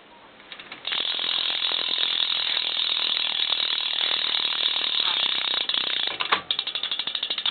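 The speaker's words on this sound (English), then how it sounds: "This is going to be the hub sound." Bike rear hub freewheel ratcheting, a rapid, even stream of close metallic clicks running continuously as the wheel coasts, briefly slowing and stuttering near the end.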